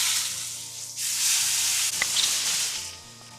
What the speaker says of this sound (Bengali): টমেটোগুলো ফ্রাই হয়ে গেছে